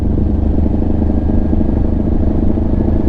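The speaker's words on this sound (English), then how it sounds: "usually you can engine brake down a hill" A motorcycle rolls slowly downhill on a wooded trail under engine braking, giving a steady, close, low engine rumble with light clatter throughout.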